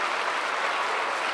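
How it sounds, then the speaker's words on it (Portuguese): A church congregation claps together in steady, dense applause, a continuous crackle of many hands that holds at an even level from start to finish with no voices over it. "Aí uma salva de palmas também, em nome de Jesus."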